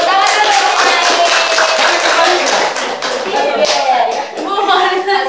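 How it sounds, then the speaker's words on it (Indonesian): Pupils in a primary school microteaching lesson clap together in a lively burst of hand claps, with children's voices talking and calling out over the clapping throughout. "tepuk tangan dulu"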